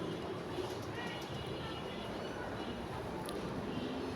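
A local train near Narayanganj rumbles past as a dense, steady, low-pitched roar with faint metallic squeals, heard at a distance and fairly quiet throughout.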